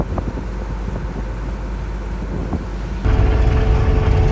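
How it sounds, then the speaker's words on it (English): A combine harvester works in a wheat field with a steady, loud low engine drone and wind buffeting. It grows heavier and rougher near the end. "I know there's engine noise from the combine"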